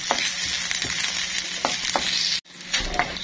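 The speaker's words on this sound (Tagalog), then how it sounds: "golden brown na yung ating bawang. Lagay natin yung ating luya dyan." Garlic fries golden brown in a pan as ginger goes in, with a loud, continuous close sizzle broken by spatula scrapes and one abrupt brief cutout.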